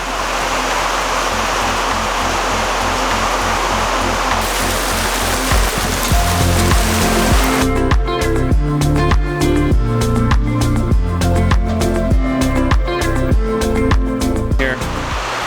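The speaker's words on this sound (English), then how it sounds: "Beautiful summer rain." A steady, dense hiss of falling summer rain fills the first half, then a rhythmic, music-like pattern takes over.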